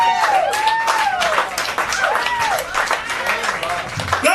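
Comedy club crowd at The Wormhole Bar breaking into steady, loud applause after a stand-up set, dense clapping throughout with whoops and cheering voices rising over it.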